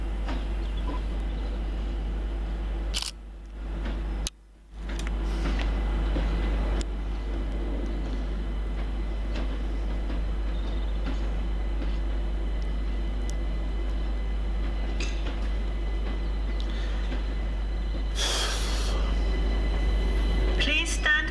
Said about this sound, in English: The next train at platform 7 does not stop here.